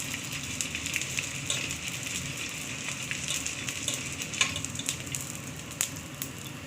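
Edible gum (gond) roasting in a pan for gond laddu, a steady soft sizzling and crackling with scattered pops and occasional stirring scrapes, heard alone.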